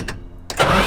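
A truck engine cranks with a couple of quick bursts, then catches and fires right off into a loud, steady running roar, all within about a second.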